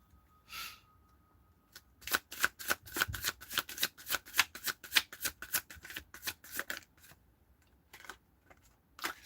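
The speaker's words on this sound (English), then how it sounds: "Shuffle." Playing cards shuffled close up: one short riffle, then a long run of rapid crisp flutters and snaps, ending with a few isolated taps.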